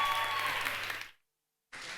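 A student union election event audience claps loudly, the applause fading out after about a second, a brief silence, then clapping picking up again.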